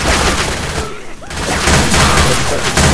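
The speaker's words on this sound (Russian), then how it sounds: "Выстрел!" Gunfire in the video game Left 4 Dead: loud, dense bursts of rapid shots fill the clip, broken by a short lull near the middle before the firing resumes.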